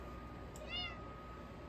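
A house cat gives one short, faint meow in a quiet indoor room, briefly rising over a low steady background hum.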